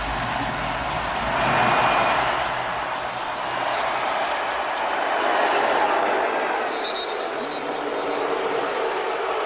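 A packed stadium crowd at the 2018 NFC Championship, Rams at Saints, roars its displeasure at the officials. The loud, sustained mass of voices swells and eases in waves, with a broadcast voice occasionally rising above the din.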